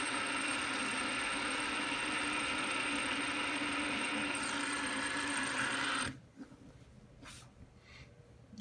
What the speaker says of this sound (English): this spinner is reverberating off the desk a little bit, which is amplifying the sound